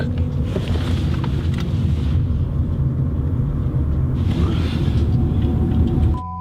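A suspicious car driving close by, a steady loud engine and road rumble with wind buffeting the microphone that holds throughout and drops off at the very end.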